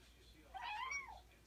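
A house cat gives one short, rising-then-falling meow, fairly faint and close by, with no talking around it.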